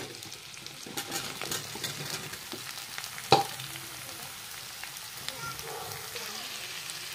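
Potatoes fry in a pan with a soft, steady sizzle as eggplant is added and stirred, with scraping clatters and one sharp clink of a utensil against the pan.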